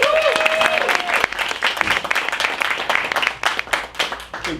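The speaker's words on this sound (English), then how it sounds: "Let's give Nick and Zeke a round of applause." An audience at an improv comedy show breaks into applause, a dense, steady wash of clapping that carries on for several seconds, with a brief tonal voice-like sound near the start.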